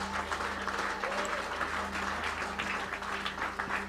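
A church congregation at a revival service claps together in a steady, moderately distant round of applause over a low electrical hum, with voices mixed in beneath the clapping.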